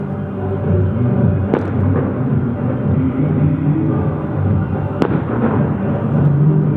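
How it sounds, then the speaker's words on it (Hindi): Firecrackers burst outdoors during a street celebration of an election win in Türkiye. Two sharp, distant bangs, a few seconds apart, cut through a constant background roar of crowd and traffic. "हर तरफ बम भी बम चल रहे"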